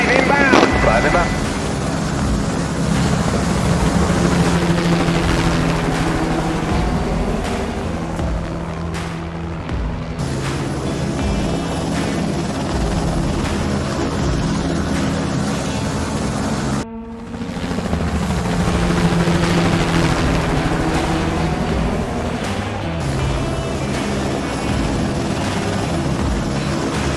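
Several helicopters pass overhead in formation at a Pioneer Day flyover, a loud continuous rotor thump and turbine roar that swells and shifts with a brief dip partway, while radio chatter and a voice carry underneath.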